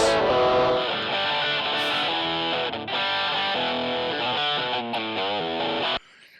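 A harsh, gritty distorted electric guitar through a mic'd antique amp strums sustained chords for several seconds, loud and close, before stopping suddenly.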